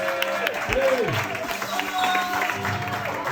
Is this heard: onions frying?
no